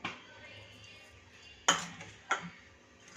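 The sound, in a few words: mixing spice masala into cauliflower in a pan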